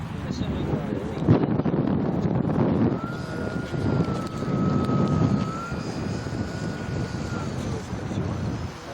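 Model airplane flying at Mission Bay, its small engine droning with a steady whine that holds pitch across the middle, mixed with gusty wind rumble on the microphone and a person talking over it.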